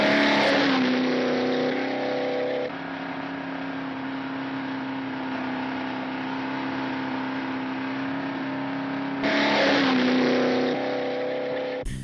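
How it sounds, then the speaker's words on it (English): A car speeding along a beach road at Barwon Heads, Victoria, a steady high engine drone that holds through the whole stretch, with louder, harsher bursts at the start and again near the end. "Betty is required to drive up to 110 miles an hour along a beach road at Barwon Heads in Victoria."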